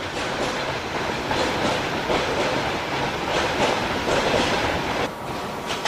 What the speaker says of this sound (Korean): 수많은 화물 열차들이 극동으로 이동하기 위해 대기하고 있다.